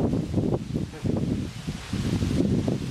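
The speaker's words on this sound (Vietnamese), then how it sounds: "Gió hơi ồn nha cả nhà thông cảm nha." Gusty outdoor wind buffeting a microphone while a couple cooks outside as rain approaches, with loud, uneven low rumbling bursts rising and falling for three seconds.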